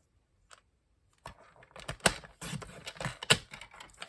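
Paper is sliced with a trimming tool into strips, giving a series of crisp clicks and scraping cuts after a brief quiet start, close and soft.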